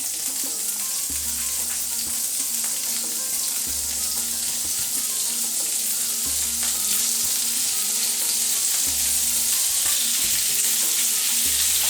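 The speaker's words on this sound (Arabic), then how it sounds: "ندير واحد المرشون تاع الزبده، نستناه يذوب معايا، ونجيب هذوك الطروفال تاع الصومو" Butter melts and salmon pieces fry in a pan, a steady close sizzle with stirring scrapes and a repeating low hum throughout, no voices.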